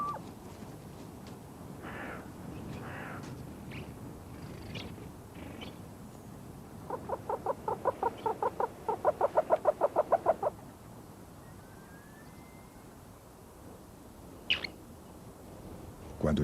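A Himalayan snowcock gives a rapid series of rhythmic, rising whistling calls, loud and clear against a quiet mountain background, with a few scattered chirps around it.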